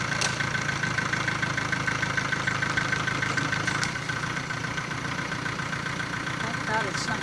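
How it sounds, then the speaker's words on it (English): A tractor engine runs with a steady idling chug and a faint knock, holding throughout the clip while voices can be heard over it in the aftermath of Hurricane Hugo in 1989. "Get on the tractor."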